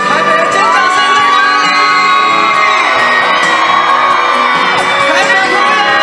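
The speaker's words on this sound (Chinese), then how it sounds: "台北尖叫声" At a New Year's Eve countdown concert in Taipei city hall plaza, a huge crowd screams and cheers loudly and continuously, with high-pitched shrieks and whoops swelling over the sustained roar.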